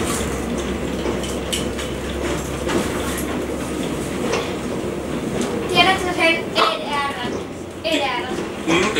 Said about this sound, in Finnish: se näyttää niinku, että tässä menee juna